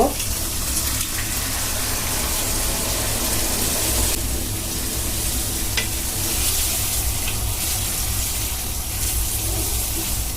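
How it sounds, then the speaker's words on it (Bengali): Chana dal is poured into a hot pan for a Bangladeshi hotel-style dal, producing a loud continuous sizzle with stirring scrapes and a watery rush throughout, close and steady. "এখন আমি ডালগুলো ঢেলে দেব"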